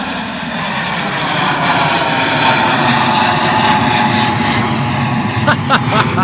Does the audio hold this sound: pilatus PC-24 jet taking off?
yes